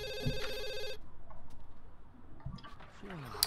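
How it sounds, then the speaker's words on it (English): A telephone rings in The Sims 2, a bright electronic trill that lasts about a second and then stops, followed by faint game sounds and quiet clicks. "The phone is ringing."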